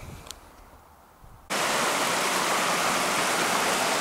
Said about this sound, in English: this is Redder Ven Brook coming down from between West Millertor and Yestor